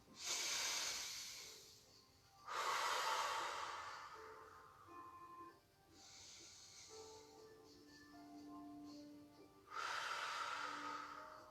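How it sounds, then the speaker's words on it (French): Several slow, deep breaths at the end of a yoga relaxation session, each a long airy hiss of inhalation and release, close and quiet, separated by brief pauses. "On inspire une ou deux fois profondément"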